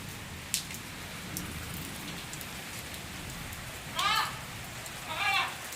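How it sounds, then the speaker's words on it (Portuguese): Soft steady rain patters on a farm after a heavy downpour, a low continuous hiss throughout, with a sharp tap early on and two short bursts of chirping or squeaking near the end. "E olha que a chuva já tá dando uma paradinha"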